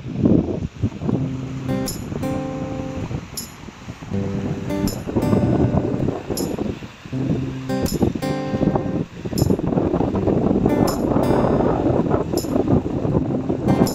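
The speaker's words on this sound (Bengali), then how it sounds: "ঢেউটা দেখো একদম সেই লেভেলের লাগছে, দেখো মানে মারাত্মক লেভেলের জোয়ার।" High-tide waves on the Ganges at Diamond Harbour churn and wash steadily, loud and close with heavy wind buffeting the microphone and a faint repeating tonal whine over the rushing water.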